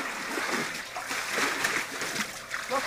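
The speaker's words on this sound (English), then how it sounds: "And stop squirting." Water squirting and splashing on a balcony, a continuous broadband spray with irregular splatters and bursts throughout, fairly close and steady in level.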